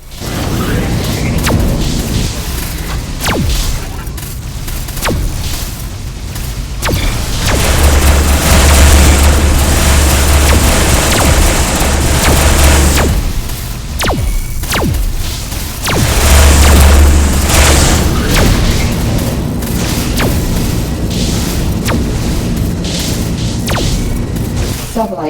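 Missile explosions and heavy booms in the space combat game Rebel Galaxy, loud and continuous, with deep rumbling blasts swelling and fading under a synthetic ship voice announcing warnings.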